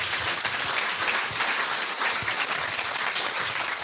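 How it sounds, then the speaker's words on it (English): An audience at a Frankston community gathering breaks into sustained, dense applause, loud and close, with many hands clapping at once and no talk over it. "Give him a round of applause, folks."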